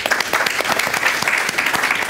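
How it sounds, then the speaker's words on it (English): A brief, full round of applause from the audience at a Caribbean resilience summit panel session, dense and steady clapping at close range with no talk over it. "Round of applause, please."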